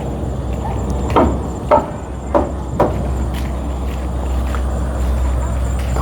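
Several sharp hammer blows, about four spaced strikes, ring out while someone drives a part into place with nuts during a repair job, over a low steady background hum.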